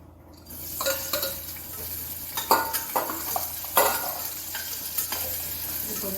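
Small shallots frying and being stirred in a pan for palak paneer, a steady sizzle broken by repeated scrapes and clinks of a spoon against metal, close and alone without voices.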